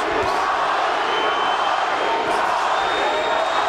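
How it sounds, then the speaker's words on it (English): Boxing arena crowd chanting for fighter Paulie Ayala during his bout with Johnny Tapia, a dense, steady roar of many voices. "The crowd chanting Paulie."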